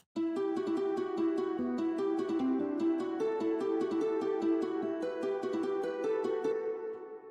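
Two plucked guitar-like melodies layered together, ringing notes in a steady, even rhythm, bright and sustained throughout with no voices.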